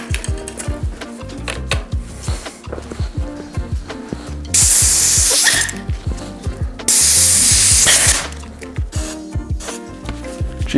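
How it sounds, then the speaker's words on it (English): Cheap hairspray hisses in two loud, sustained bursts of about a second each onto bicycle shifter pods, between clicking and ratcheting shifter mechanism sounds up close. "Cheapo hairspray."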